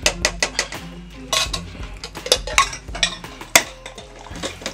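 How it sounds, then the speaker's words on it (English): Black beans being stirred into turkey chili in a pot, with irregular scraping and clinking of a utensil against the pot in close, busy bursts and no talking. "Gonna mix that up real good."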